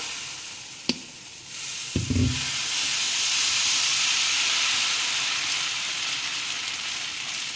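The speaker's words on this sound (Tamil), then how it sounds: "ஃப்ரெண்ட்ஸ், இப்போ நம்ம தோசையை ஊற்றிக்கலாம்" Dosa batter for a spicy kara masala dosa hits a hot tawa with a brief clatter, then a steady, loud sizzle and hiss that fills the rest of the moment.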